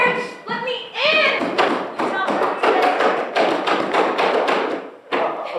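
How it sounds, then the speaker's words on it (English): Hard knocks pound on a door during a stage performance of The Comedy of Errors, several heavy thuds spaced through the passage, with actors' loud voices speaking over and between them. "knock the door hard"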